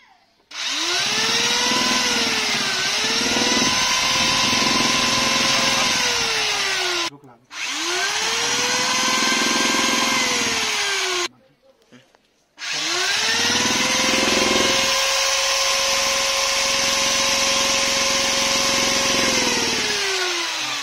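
A handheld electric drill spins a 24V DC RO pump motor used as a generator, whining loudly in three long bursts with rising and falling pitch as speed changes, separated by brief stops.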